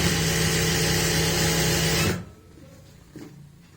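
A sewing machine runs at a fast, steady whir as it stitches elastic into palazzo pants, then stops abruptly after about two seconds, leaving quiet handling of the fabric.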